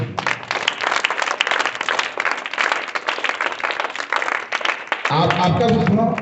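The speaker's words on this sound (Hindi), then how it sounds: "यहाँ इनके लिए ताली बजा दो।" Students in a classroom break into loud, dense clapping that runs steadily for several seconds before a voice cuts in over the tail of the applause.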